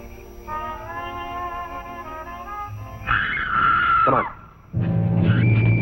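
A woman screams in a 1951 Dragnet radio drama, a long shrill sustained cry over faint music, then a second rising scream after a brief pause, with no talk over it.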